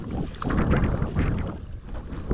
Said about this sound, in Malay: Angin bukan main kuat.